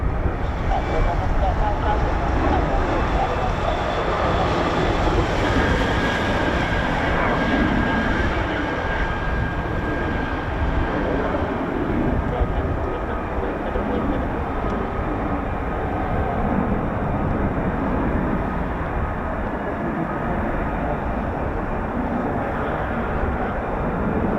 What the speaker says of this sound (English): So that's a practice diversion from Marham there. That's RAF Cromwell's Embraer Phenom T1,